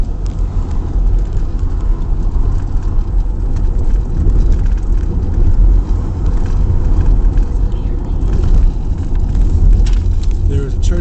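A car drives along a road with a steady, loud low rumble of engine and tyre noise heard from inside, continuous with no breaks.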